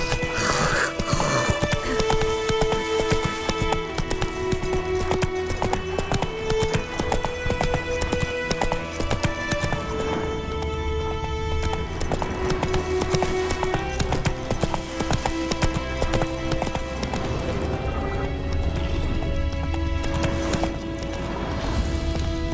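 Geralt's horse Roach galloping in The Witcher 3, rhythmic hoofbeats under loud orchestral game music throughout.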